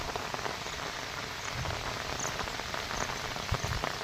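Heavy rain pours steadily, a dense hiss of drops hitting surfaces with occasional louder patters, no voices.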